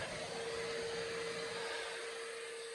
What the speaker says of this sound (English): Just takes a second to vacuum it off now and then, keeps it from dragging anything into it.